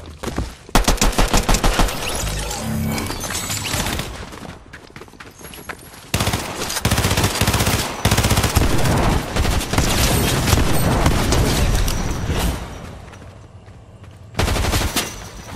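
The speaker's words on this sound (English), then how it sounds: "This shotgun works better." Sustained Fortnite gunfight with dense, loud rapid gunfire and booming shotgun blasts that carry on for most of the stretch, briefly dropping out before resuming. Occasional faint talk sits beneath it.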